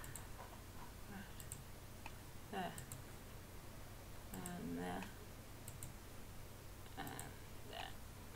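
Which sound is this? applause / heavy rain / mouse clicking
mouse clicking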